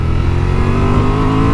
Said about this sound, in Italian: Scalatina col quick shifter,